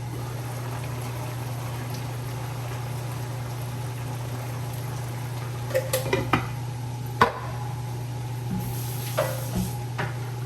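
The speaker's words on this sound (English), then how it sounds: "Stir it a bit again." Lima beans being stirred into a pot of beef stew, a low steady simmering bubble under a few sharp spoon scrapes and knocks against the pot near the end.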